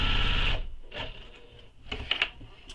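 A sewing machine runs a long basting stitch on a tote bag pocket in short bursts, a close mechanical whir with pauses and a few clicks between runs.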